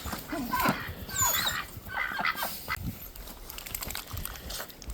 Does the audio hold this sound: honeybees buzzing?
no